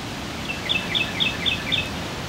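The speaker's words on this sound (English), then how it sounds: "the birds started chiming in when I shut up" Birds chirp outdoors in a short, regular series of bright high calls, about five in a row, moderately close over a steady background hiss.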